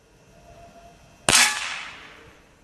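A Benjamin Discovery air rifle fires a single loud, sharp shot, followed by a short decaying crack and hiss, against a quiet background.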